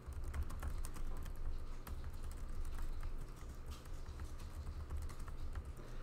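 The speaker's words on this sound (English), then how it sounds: "you just get used to typing these funny characters in some of this code" Code being typed on a computer keyboard, a quiet, steady stream of soft key clicks with irregular rhythm, heard alone without talk.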